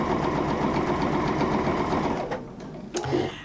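A sewing machine runs steadily, stitching a square of fabric, with a dense continuous whir that stops near the end, followed by a brief clatter and a short restart.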